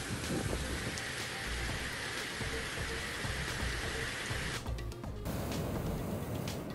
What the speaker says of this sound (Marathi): रत्नागिरीच्या मंडणगडमध्ये मुसळधार पाऊस।